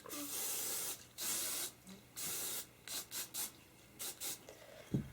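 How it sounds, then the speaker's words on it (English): Short bursts of hairspray hit hair in a series of quick hissing sprays, some longer and some brief, close to the microphone, with a small knock near the end. "you just finish it off with some hairspray"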